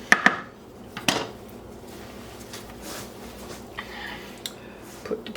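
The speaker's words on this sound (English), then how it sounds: "stir up your veggies" A spoon scraping and clanking against a pan while vegetables roasting alongside pork belly are stirred, with a few sharp metallic knocks and faint rustling in between.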